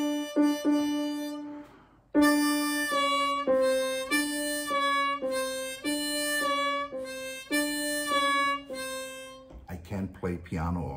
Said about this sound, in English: And when you have a piano or keyboard, you can control your bending like this.